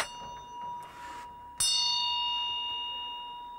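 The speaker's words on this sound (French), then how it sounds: "Alors il y a la cloche." A Tibetan ritual bell, the kind paired with a dorje, is struck once after some faint handling noise and rings out with a clear, bright tone that slowly fades.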